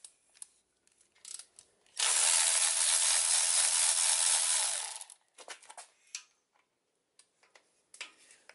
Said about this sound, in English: I'm just taking a little ratchet, electric ratchet, and taking all the bolts, off.